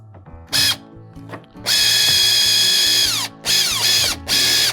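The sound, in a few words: power drill with Phillips driver bit tightening hardware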